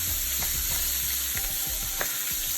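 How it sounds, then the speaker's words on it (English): Steady frying sizzle fills the clip, a continuous hiss with occasional soft pops and scraping clicks of a utensil stirring in the pan, no voices. "we're going to let the other side fry for about another 5 minutes"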